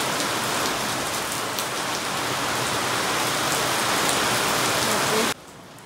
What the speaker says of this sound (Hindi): बहुत तेज हो गई है यहाँ पे बारिश।